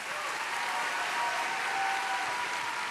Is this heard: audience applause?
yes